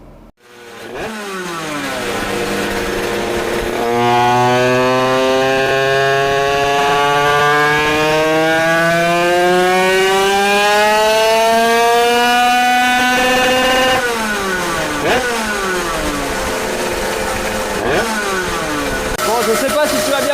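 Race motorcycle engine built for running, idling and then revving hard during carburetor jet tuning, its rising and falling harmonic whine loud and close for nearly the whole stretch, with a brief dip and return near the end.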